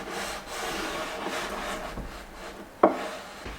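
A piece of wood presses melted edge banding flat with a steady, close rubbing and scraping, then a single sharp knock near the end.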